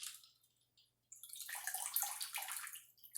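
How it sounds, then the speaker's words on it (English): Ice water drains off blanched spinach into a bowl: a brief trickle, a short pause, then a steady splashing pour that runs close and fairly quiet for a couple of seconds. "So let me get all the ice out of here. Draining it like this, putting it in my separate bowl."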